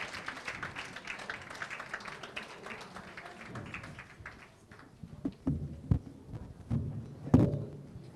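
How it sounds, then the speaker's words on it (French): Scattered claps and taps from an audience at a graduation-style closing ceremony of a 2015 summer camp, uneven and moderately loud, with a few sharper thumps near the end. "Sous vos applaudissements"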